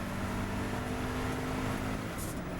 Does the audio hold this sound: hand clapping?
no